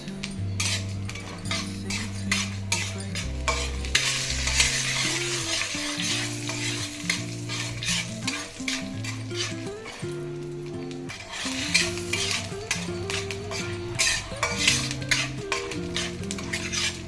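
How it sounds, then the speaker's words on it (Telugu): A tempering with a tablespoon of asafoetida sizzles in a pan while a spoon stirs and scrapes against the metal, clinking in an irregular rhythm close up and with no talk. "పోపు వేగిపోయింది"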